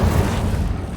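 A fiery Incendio spell cast in Hogwarts Legacy, one loud, close whoosh and boom of flame that fills the whole short moment.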